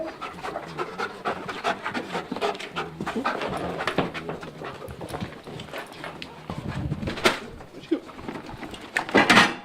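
A police K9 narcotics detection dog panting rapidly during a search demonstration, with close, rhythmic breathy bursts, scattered footsteps and knocks, and faint voices in the background.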